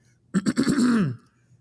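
A single close, loud throat clearing with a few rough bursts ending in a drawn-out growl, alone in a quiet room.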